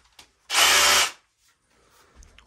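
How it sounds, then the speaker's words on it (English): A hammer or combi drill with a 10 mm bit bores into a wall to fit a TV bracket, giving one loud, close, half-second burst of grinding drilling that cuts off sharply, with near silence on both sides. "So get your unbranded drill. Your unbranded drill. Any hammer drill, or if you haven't got a hammer drill, a combi drill."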